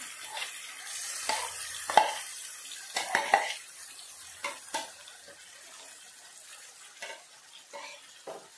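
Vegetables for a restaurant-style veg biryani fry in hot oil with a soft steady sizzle, broken by scattered clinks and scrapes of a spoon stirring the pan, close by with no talking.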